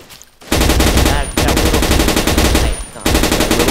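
Sustained automatic gunfire from an AUG rifle in the game Blockade 3D on the versusTowers map, dense rapid bursts broken by two brief pauses, loud and close, with no talk.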